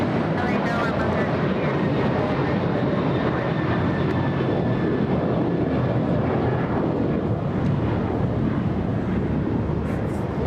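Alaska Airlines airliner taking off at LAX, a continuous broad engine roar with wind rumble heard from outside, steady throughout with a voice talking over it.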